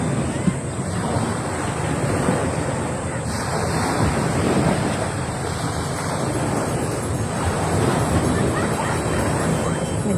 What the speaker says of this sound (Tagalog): At least nasa dagat.